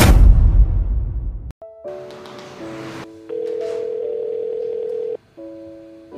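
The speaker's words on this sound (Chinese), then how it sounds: "我现在就打电话给院长" A ringback tone on a telephone call to a director, steady tones in several separate bursts with short gaps after a brief burst of noise at the start, close and clear with no talking.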